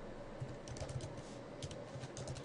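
Rapid irregular clicking of keys being typed on a computer keyboard, close and fairly quiet, with short bursts and brief pauses.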